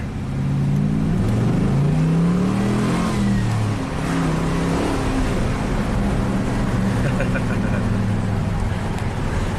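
A Pontiac GTO V8 engine revs and accelerates up through the gears, heard from inside the cabin as a deep, rising drone with a steady rumble underneath.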